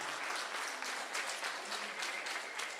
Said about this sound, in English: would you give him a hand clap for that willingness to do that?